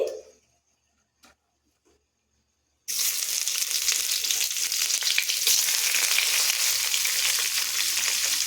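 Chopped onions hitting hot oil for a potato curry burst into a loud, steady sizzle after nearly three seconds of near silence broken by a couple of small knocks. The frying runs on evenly to the end with no talk.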